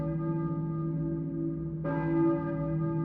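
A church bell tolls in the video game Silent Hill 1, a sustained ringing hum with one fresh, brighter strike partway through, loud and unbroken, with no talk.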